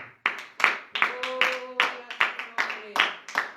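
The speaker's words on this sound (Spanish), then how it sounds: "le den un fuerte aplauso al Señor" A small church congregation claps, sparse and irregular hand claps at close range with voices calling out between them, fairly quiet overall.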